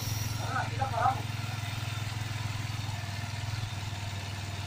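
A motorcycle engine idles steadily with a low, throbbing rumble during a rally tour, while voices and faint clatter come through briefly near the start.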